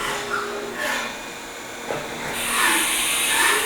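A 2012 Haas Super Mini Mill 2 CNC vertical mill runs with a steady airy whir and hiss, shifting in pitch as it works, heard alone at a moderate level.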